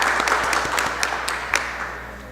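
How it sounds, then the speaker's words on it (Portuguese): Applause at a literary awards ceremony for an honorable mention: scattered distinct claps over a steady low hum, fairly close and brief, gradually thinning out. "eu peço uma salva de palmas para a menção honrosa de Vicentim"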